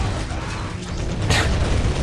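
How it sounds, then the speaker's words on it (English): Siege generator explosion in the Dawn of War: Soulstorm strategy game, a loud burst rising over a dense rumbling battle din, with steady mechanical combat noise running throughout. "It has an explosion radius to the moon and back, and killed some of my bikes"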